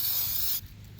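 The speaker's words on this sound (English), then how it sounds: "Spray around it. Don't directly spray it," DEI high temp spray coating sprayed from an aerosol can onto car brakes, one steady close hiss lasting about half a second before cutting off abruptly.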